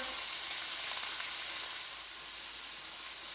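Onions frying in a pot as the base for ham and bean soup, a steady, even sizzle with soft crackle throughout and no voices.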